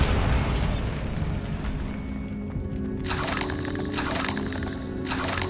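A Bombarda spell explosion in the Hogwarts Legacy video game, a loud, dense blast with cracking, shattering debris and a second burst of crackling partway through over a constant rumbling background.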